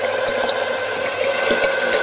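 Water rises and churns inside a spinning container in a crude bench setup, a steady loud bubbling rush with faint rhythmic mechanical ticks beneath it.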